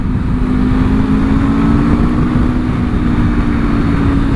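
A 2026 Aprilia RSV4 superbike with a freshly replaced engine idles steadily, a smooth, even rumble from the stock, quiet exhaust that stays constant throughout and is heard close up.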